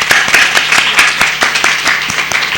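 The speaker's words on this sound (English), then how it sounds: "So a clap for them." Audience applause at a literature festival session, dense, loud clapping close by, rapid and continuous throughout.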